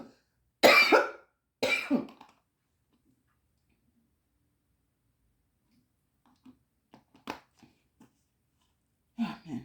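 Two sharp, loud coughs close to the microphone, followed after a quiet pause by faint clicks and a soft throat clearing, with a brief voice at the end.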